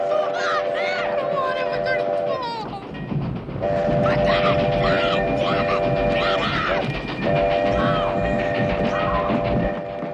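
A train from the film Stand By Me passes on railroad tracks with a loud, sustained rumble and clatter. Its horn sounds in repeated long blasts, and voices speak over it.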